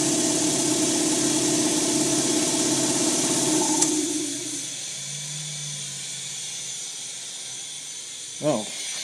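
An air compressor whose disconnect switch has just been thrown runs with a loud, steady hiss and engine drone for about four seconds, then winds down to a quieter hum, followed by a short mechanical rattle near the end.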